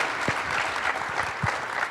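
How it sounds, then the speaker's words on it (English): A crowd claps for the mayor in Fort Myers at a homecoming event for Coach Deion Sanders, with dense, continuous applause and a couple of low thumps mixed in. "Come on, clap your hands for the mayor."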